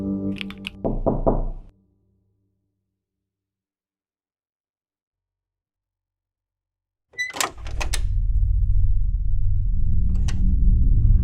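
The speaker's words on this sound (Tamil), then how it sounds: "அந்த கதாசிரியன் வீட்டின் கதவில் தக் தக் என்ற சத்தம் வந்தது." Knocking on a house door at night in a Tamil thriller short film: a few sharp raps at the start, then dead silence, then another cluster of hard knocks followed by a low rumbling hum.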